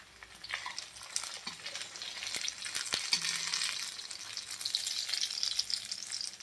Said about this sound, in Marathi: अशा पद्धतीने आपल्याला हे पिस्ते तळून घ्यायचे आहेत.